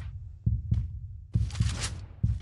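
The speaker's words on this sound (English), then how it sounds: "it's really the heartbeat that is going berserk" A video game heartbeat effect thumps in low, heavy double pulses, irregular and close, with a brief bright wash of noise between beats.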